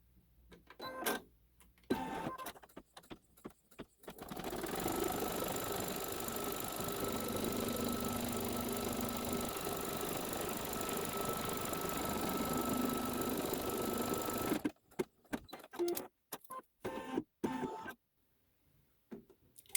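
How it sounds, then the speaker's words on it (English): A sewing machine stitches down quilt batting for a quilt block, a steady mechanical whir running continuously for about ten seconds at close range, framed by brief clicks and handling noises before and after. "Our first step will be to stitch down the batting, as usual."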